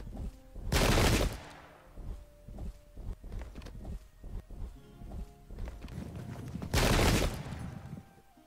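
Two loud, crackling volleys of musket fire from an English Civil War battle in the Pike and Shot game burst out, separated by quieter scattered pops and clatter in between.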